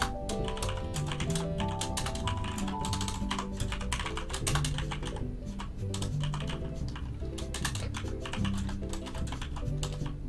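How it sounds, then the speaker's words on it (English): Rapid typing on a computer keyboard during a Minecraft Build Battle game, heard as a dense run of quick clicks layered under continuous tonal background music at steady volume. "All I can hear is your rapid typing"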